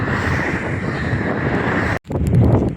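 Strong wind buffets the microphone in a loud, continuous rumbling roar, briefly cutting out before gusting back in.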